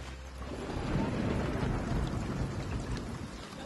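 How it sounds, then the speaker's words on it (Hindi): Evening rain used as a sound effect in a spoken story, a steady close hiss of falling drops with a low rumbling undertone that swells and holds throughout, with no voice. "शाम को हल्की बारिश शुरू हो गई थी।"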